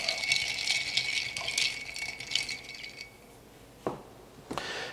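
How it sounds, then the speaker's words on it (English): Olivette cocktail ingredients rolled and stirred in a Nick and Nora-style mixing glass, giving bright repeated clinks and rattles of ice against glass, close and clear, then fading to a couple of sharp isolated taps. "we're going to roll this around a little bit in our mixing glass"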